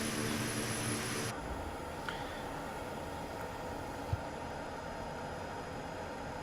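Pilatus aircraft engines in Microsoft Flight Simulator 2020 run while the plane taxis, a steady broadband roar and hiss that holds constant throughout with no one talking.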